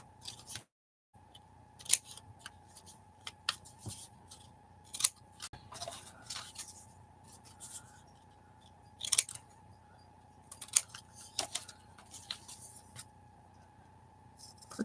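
Scissors snip paper while a collage book is being made at a desk, scattered quiet crisp cuts and rustles at irregular intervals, close to the listener over a faint steady hum, with no talking.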